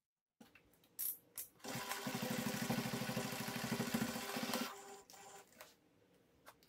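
A sewing machine stitches fabric at a 3/8 seam for a bag's zipper gusset, running in a steady rapid mechanical patter for about three seconds after a few short starts, then stopping, close and moderately loud.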